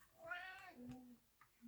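A pet cat lets out a single drawn-out meow that rises and then falls, followed by a brief softer chirp, close by and fairly quiet.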